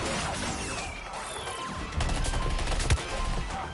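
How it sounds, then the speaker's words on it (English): Rapid SMG fire in the Suicide Squad: Kill the Justice League video game, a dense stream of shots with crashes and impacts, growing louder in the second half. "This SMG's unstoppable!"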